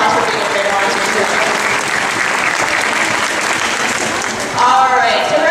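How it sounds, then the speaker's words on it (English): Loud applause from the crowd at an aquarium dolphin show fills the space, a thick continuous clapping that swells briefly near the end. "Everybody give Heidi a big round of applause for being a great volunteer."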